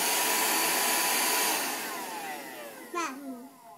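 A Shark vacuum cleaner drones loudly and steadily nearby, then tapers off as it winds down; a short higher tone and a rising voice-like sound come in near the end.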